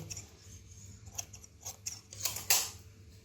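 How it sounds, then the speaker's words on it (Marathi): Scissors snip through saree fabric with a few quick, close blade clicks and slicing rasps, cutting a straight edge along a pulled thread, with no voices. "शेवटपर्यंत कट करत जायचं आहे आणि धागा खेचायचा आहे"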